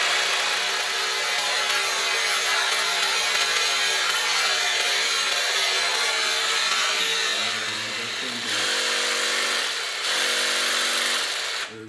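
Power saw cutting wood for a raised garden bed with a wobbling blade, a loud, continuous high whine and rasp for about eight seconds, then a dip and a brief restart before winding down, no talking.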